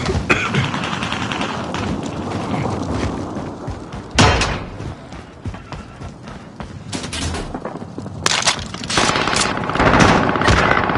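Video game shootout gunfire, loud bursts of automatic fire and single shots with heavy thumps, dense and continuous, sharpest around a few sudden volleys.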